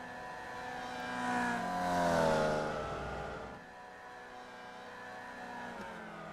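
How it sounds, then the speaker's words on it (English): Formula Vee racing cars at Brands Hatch scream past down the straight, a loud engine roar rising and swelling as they pass close by, then easing into a steady, more distant drone. "These engines screaming away as they head down the straight"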